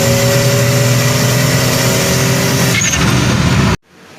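Under a bridge, a 1999 Buick Regal GS with a 58mm turbo upgrade holds a loud, close rev before the throttle drops off into a brief turbo whoosh, and then the sound cuts out abruptly.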